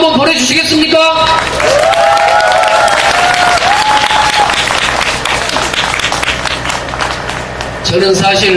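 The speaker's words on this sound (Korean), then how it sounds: "이렇게 격려의 박수 한번 보내주시겠습니까?" Large political rally crowd at an evening protest against the Korea–US FTA bursts into loud, sustained applause, with scattered shouts and voices mixed in throughout before it tapers near the end.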